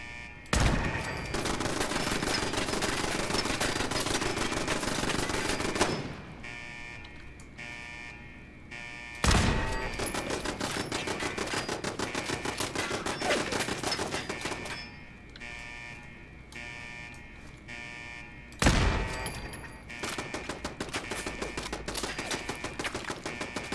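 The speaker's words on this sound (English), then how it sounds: "they're going to start firing some scouting shots at us" Automated turrets in Fallout 4's Far Harbor expansion fire long, rapid bursts of gunfire broken by short pauses and sharp impact bangs, loud and dense throughout.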